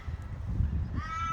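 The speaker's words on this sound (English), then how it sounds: "Plenty of bird life" A crow gives a short caw near the end, with other birds faintly audible behind a steady rumbling background at a gazebo rest stop in a quaint Australian country town.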